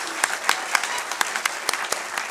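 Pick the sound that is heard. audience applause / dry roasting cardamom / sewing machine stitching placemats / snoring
audience applause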